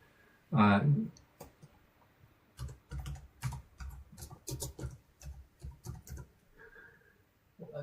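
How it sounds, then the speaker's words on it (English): Rapid clicking of keys on a computer keyboard, in uneven bursts, close by, after a short spoken word at the start. "Just let me type this in. I'm typing in."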